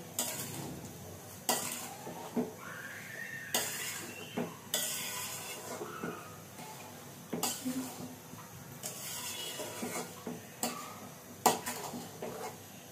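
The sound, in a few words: stirring halwa in a pan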